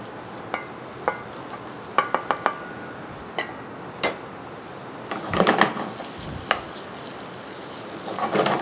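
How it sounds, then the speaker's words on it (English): Batons of beef fillet stir-fry in a hot pan with a low continuous sizzle, while scattered utensil scrapes and taps against the pan sound close and intermittent throughout. "put in my batons of fillet. And I'm going to stir fry that."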